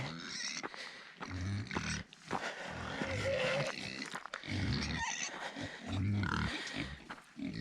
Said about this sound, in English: let's go and feed the pig choir